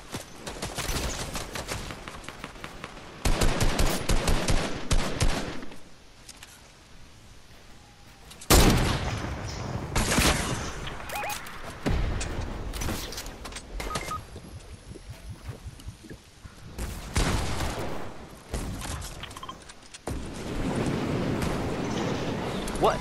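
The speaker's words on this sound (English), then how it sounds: "I'm getting shot at." Bursts of rapid video game gunfire crack loudly in dense volleys, separated by quieter gaps with scattered single shots and a booming blast, while players talk over the action.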